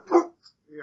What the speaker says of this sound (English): My dog is getting antsy, everyone.